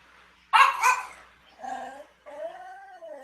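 A dog gives a sharp close bark, then follows with a couple of shorter whining, yelping vocalisations, loud and alone in a quiet room.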